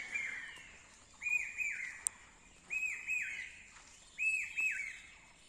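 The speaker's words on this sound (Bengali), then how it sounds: "পাখির ডাক।" Birds call on a cold, foggy village morning among bare, leafless trees, repeated whistled chirps coming in three clear bursts over quiet background hiss, fairly distant.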